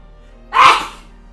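A single sharp human sneeze bursts out close by, loud and brief, standing alone against a quiet background.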